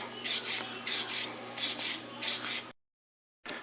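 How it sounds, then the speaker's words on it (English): A carding brush scrubs loose rust and velvet off steel parts of a Winchester 1895 rifle in a close, steady run of paired rasping strokes. The scrubbing stops briefly, then starts again. "use a carding brush and get the velvet off the parts"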